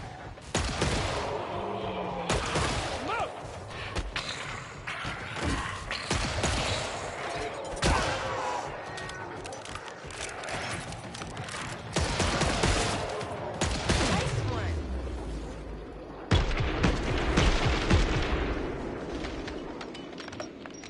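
Turret gunfire in the video game Killing Floor 3, dense rapid bursts and blasts forming a continuous chaotic barrage with explosions mixed in, loud throughout with brief dips.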